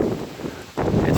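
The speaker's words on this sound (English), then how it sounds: "Listen to that wind." Strong early-morning January wind gusts buffeting outdoors, a steady loud rushing roar that dips briefly then surges back, close to the microphone.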